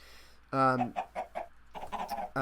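Chickens cluck in Minecraft, with a sharp squawk followed by a rapid run of short clucks and another cluster, close and fairly clear over a quiet background.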